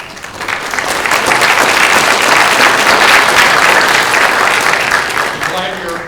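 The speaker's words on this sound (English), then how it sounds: "I'm glad you're clapping and not too many boos or vegetables, you know." Audience clapping at a school spring concert, a dense, loud wash of applause from a large crowd that swells after the first half-second, holds steady, and tapers slightly near the end, with a voice faintly audible beneath it.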